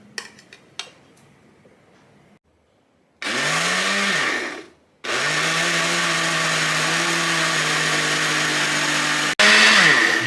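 A few clinks and taps, a pause, then a large blender whirs loudly in bursts as it churns bananas, its motor pitch dipping and rising.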